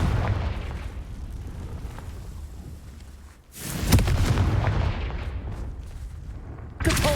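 Confringo fire spell explosions in Hogwarts Legacy go off during a Merlin trial, two sharp booming blasts about three seconds apart, each rising out of a steady rumbling background.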